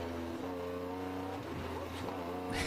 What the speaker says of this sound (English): Nice downshifts.